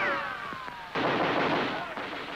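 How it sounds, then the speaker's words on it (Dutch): A sharp gunshot crack bursts out over a noisy, rumbling background during the liberation of Paris, followed by a sustained roar. "maar schoten weer klonken."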